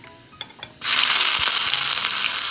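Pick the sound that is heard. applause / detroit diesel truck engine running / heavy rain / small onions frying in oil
small onions frying in oil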